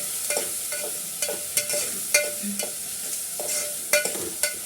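Prawns fry in hot oil for an Andhra-style dish, a steady close sizzle broken by repeated clinks and scrapes of a stirring spoon against the pan, with no voices.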